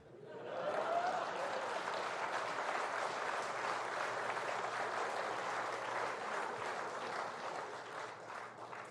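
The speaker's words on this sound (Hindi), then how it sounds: "लेकिन जब मैं कहूं तब ताली बजती है।" A large auditorium audience applauds steadily at an event where Narendra Modi is speaking. The dense, even clapping rises quickly and holds for nearly nine seconds.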